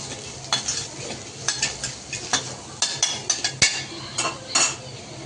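Masala is stirred and sautéed in a hot pan, a spoon scraping and clinking against the metal in quick repeated strokes over a soft, constant sizzle.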